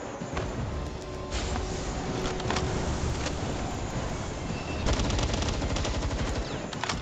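Dense, continuous rapid gunfire in the video game Palworld, loud bursts layered thickly over one another with no clear pauses.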